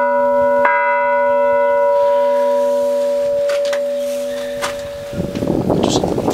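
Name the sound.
small church bell ringing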